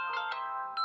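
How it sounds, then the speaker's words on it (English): A mobile phone ringtone plays a short tonal melodic burst, brief and moderately quiet, heard alone in a lecture setting. "Oh, sorry guys, that's my phone."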